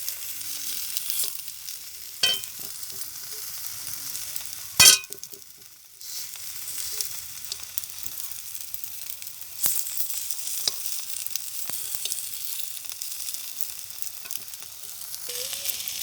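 Eggplant slices fry in oil in a pan, giving a steady, moderate sizzle with occasional sharp pops and clatter, a brief lull midway, and no voices.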